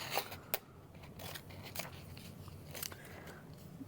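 Scissors snip through pattern pieces for a Vestibule wallet, giving a few sharp, close crunching cuts spaced irregularly over a quiet room, with no talking.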